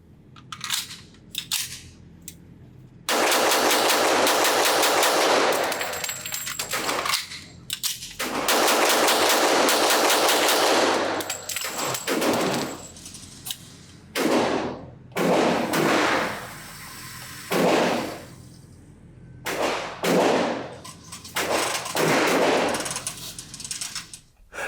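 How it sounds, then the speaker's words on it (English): Rapid strings of pistol shots from a nickel-plated HK P7 M10 squeeze-cocker in .40 S&W at an outdoor range, loud sharp reports fired in quick bursts with brief pauses between groups. "let's shoot this gun fast, and see how it does with these other tests"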